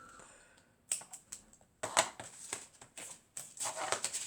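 Paper being cut for a handmade mini album, with crisp repeated snips and rustles in short irregular bursts, near and fairly quiet, no talking.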